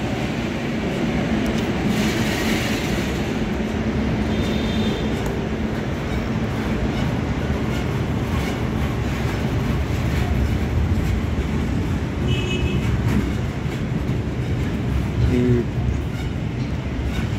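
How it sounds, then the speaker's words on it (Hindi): Indian Army train carrying military equipment such as tanks, a steady loud rumble of rolling rail wagons passing close by for the whole stretch, with faint metallic squeals and clanks and occasional voices in the background. "ये इंडियन आर्मी का ट्रेन है।"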